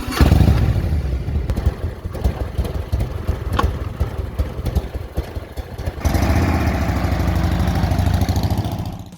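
Motorcycle engine running steadily throughout a ride on a Tuscany tour, loud and close with a continuous rumbling drone that thickens after a shift partway through, no talking.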